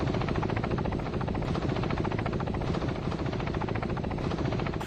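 A Kamov Ka-31 naval reconnaissance helicopter drones loudly and steadily with dense rotor thump and engine roar, close and continuous with no speech.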